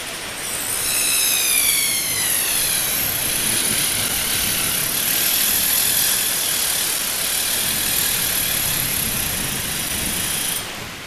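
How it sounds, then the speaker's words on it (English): A small slitting saw blade cuts through plywood with a loud, continuous high-pitched whine that rises as the blade spins up and holds steady for about ten seconds before stopping. "Using that slitting saw is not the safest thing in the world, but it does provide a solution."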